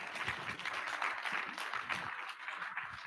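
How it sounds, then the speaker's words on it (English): An audience at a public presentation on writing for media gives a steady burst of applause, a dense patter of many hands clapping at moderate distance for about three seconds. "I think that applause needs to be better"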